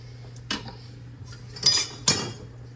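Ladle clinking against a pan while red sauce for Sicilian meatballs is scooped in, three short metallic knocks spaced apart over a low steady hum, fairly close with no talking.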